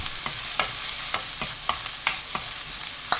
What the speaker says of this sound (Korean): 양파 넣고 10초 볶습니다.